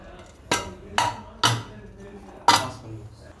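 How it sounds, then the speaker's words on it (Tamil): Metal pressure cooker lid being set on and locked shut while cooking whole chicken: four sharp clanks, spaced roughly half a second to a second apart, close and loud in a quiet kitchen. "நம்ம குக்கர் மூடியை வச்சு"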